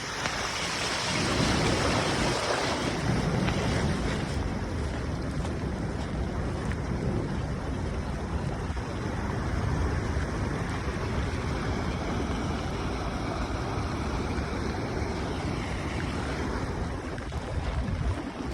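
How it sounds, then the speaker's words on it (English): Floodwater running down a residential street past a storm drain after a storm, a continuous rushing wash mixed with wind buffeting on the microphone, steady and fairly loud, no talk. "See how much water is running down the street still here past the storm drain"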